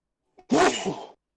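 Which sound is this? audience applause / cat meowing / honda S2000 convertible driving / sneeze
sneeze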